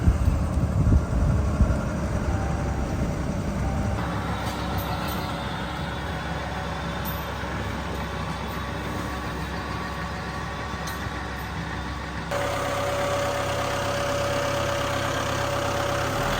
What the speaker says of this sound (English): It's a brand new 650P John Deere.